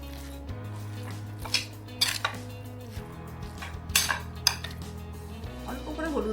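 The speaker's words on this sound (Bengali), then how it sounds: "ভালো করে নাড়াচাড়া করে নেবে" Mango pickle mixed with spices is stirred in a metal pan, giving a few sharp spoon clinks and scrapes against the vessel over a low steady hum, close and quiet, with no talking.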